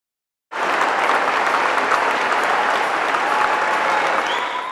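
Family and friends applaud steadily in an arena as Iowa National Guard soldiers march in. The loud, dense clapping starts suddenly and holds at full strength to the end.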